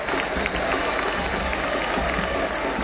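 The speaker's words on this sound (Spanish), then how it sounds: "Aplausos para el propio Ochoa." A stadium crowd at an Argentine football match, Belgrano against Brown, applauds steadily as the player Ochoa leaves the pitch, a dense, even wash of clapping with a faint murmur of voices throughout.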